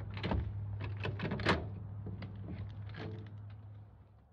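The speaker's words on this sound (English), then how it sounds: "Basement door just opened" A basement door opens with a few soft clicks and thumps, the loudest knock near the middle, over a steady low electrical hum.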